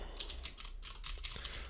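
A computer keyboard clicks as a command is typed, quick close keystrokes in an uneven rhythm with short pauses, faint and alone in a quiet room.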